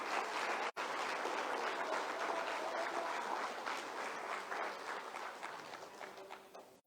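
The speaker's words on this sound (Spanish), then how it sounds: "Que va a aplaudirlo para el Señor, hágalo bien." Congregation at a church service applauding, a dense, steady wash of many hands clapping that holds at moderate level with a brief dropout near the start.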